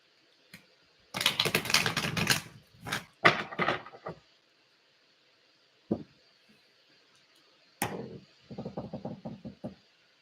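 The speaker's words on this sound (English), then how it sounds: "So I'm going to give these a quick shuffle." Tarot cards are shuffled in quick bursts, sharp riffling and tapping clusters separated by pauses, heard close in a quiet room.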